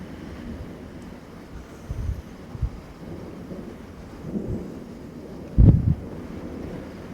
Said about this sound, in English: As you can hear from the thunder.